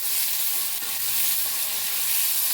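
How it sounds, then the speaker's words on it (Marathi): Sliced onion frying in a kadai while being stirred, a loud, continuous close-up sizzle with faint spoon scrapes beneath it and no speech. "कढईत घालूया, हलवून घेऊया"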